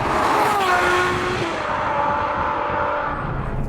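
Ferrari 812 Superfast with its 789 bhp naturally aspirated V12 gives a loud, sustained engine drone, a steady rich tone that holds throughout with no voices over it.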